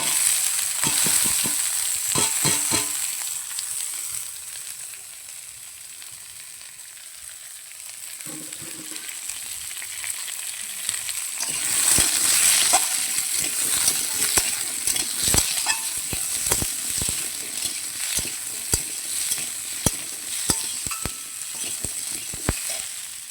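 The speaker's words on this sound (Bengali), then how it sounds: "এই পেঁয়াজ আর টমেটো ধনে পাতা আলু কাটা আছে এটা একসাথে ঢেলে দেবো" Onion, tomato, coriander leaves and cut potato frying together in a pan, a steady close sizzle with frequent clinking scrapes of a spatula, the hiss swelling louder after a quieter stretch.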